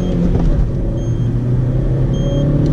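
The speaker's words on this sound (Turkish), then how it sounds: "ben size şöyle tam böyle dip gaz yapacağım ya şurada" A Seat Ibiza running on LPG with the air conditioning on accelerates at full throttle, giving a loud, steady engine drone and rumble heard from inside the car with no pause.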